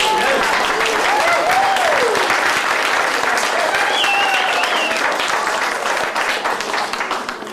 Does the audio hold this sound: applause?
yes